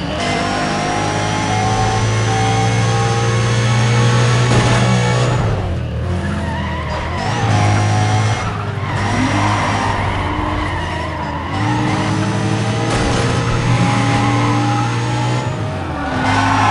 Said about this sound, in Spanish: ¡Escuchad los motores!